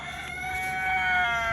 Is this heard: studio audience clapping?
no